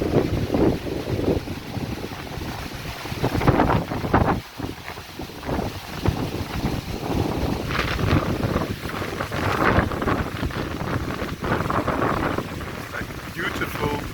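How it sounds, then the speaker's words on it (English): Wind gusts through trees over open fields on a blustery day, a steady broadband rush with swelling surges and heavy buffeting on the microphone throughout. "wind going down the trees. In the fields."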